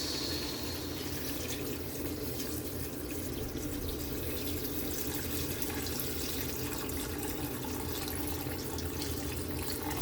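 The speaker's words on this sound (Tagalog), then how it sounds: "lagay na natin kaili ang ating hugas, bigas" Rice-washing water being poured into a cooking pot for a Bisaya-style bas-oy soup: a steady, continuous splashing pour, close and moderately loud, with no talking.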